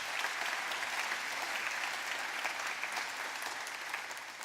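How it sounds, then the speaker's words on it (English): An audience at a Stark County campus ribbon-cutting ceremony gives a sustained round of applause, a dense, even roar of clapping that fades slightly at the end. "yes, give them a round of applause"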